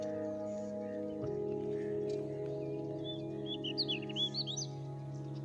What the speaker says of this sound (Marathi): नॅचरल आवाज पक्ष्यांचा